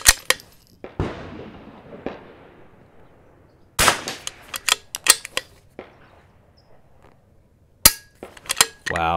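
Rimfire rifle shots ring out at a spinning target on a shooting range, sharp and close, with single cracks and quick bursts separated by quiet gaps and faint ringing.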